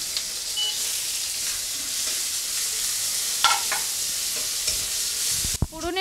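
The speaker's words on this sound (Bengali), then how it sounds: "রসুনটা একটু নেড়ে আমি এর মধ্যে পেঁয়াজ বাটা দিয়ে দিচ্ছি।" Garlic frying with onion paste in a pan for chilli mushroom, a steady close sizzle with a few scraping stirs of a spoon near the end.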